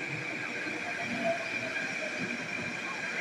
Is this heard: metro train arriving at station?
yes